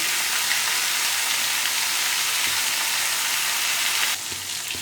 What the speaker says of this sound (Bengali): নুন দিয়ে আমি সবজিগুলোকে খুব ভালো করে ভেজে নেব একটু আর কটা কাঁচা লঙ্কা দিয়ে দেবো